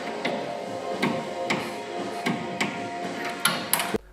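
A torque wrench set to 45 Nm tightens a fastener with a run of small, evenly spaced ratcheting clicks at close range, ending in one sharper final click.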